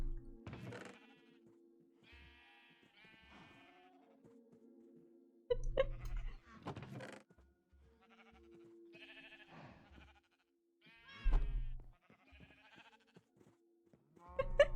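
Sheep in a modded Minecraft world bleat repeatedly in short separate calls against near silence, with a few soft thumps between them.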